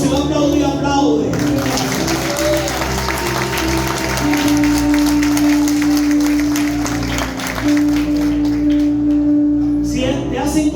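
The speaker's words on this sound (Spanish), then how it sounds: "Entonces, si va a aplaudir, aplaude." Church congregation applauding during a Spanish-language sermon, a steady wash of clapping that runs throughout with sustained musical tones, likely keyboard or organ, held underneath.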